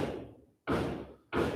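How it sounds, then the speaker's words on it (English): Sharp knocks on a door, three heavy thuds spaced roughly evenly about two-thirds of a second apart, loud and close with a short decaying tail after each, no talking. "That's spirit knocking on the door."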